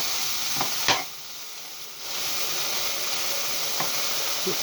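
Goulash ingredients in a hot pan on a cooker turned high, a continuous broad sizzling hiss with a couple of brief utensil scrapes, heard close with no talk.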